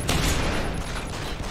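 Gunfire in the video game Deus Ex: Human Revolution, loud and close: a rapid burst of shots that merges into a dense volley lasting the whole moment, with no talking.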